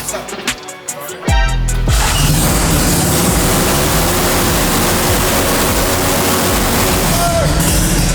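A rebuilt rotary engine in a Kei truck, repaired after blowing up, cranks over and fires into a loud, steady, continuous roar that holds without letup, with brief voices audible before it starts.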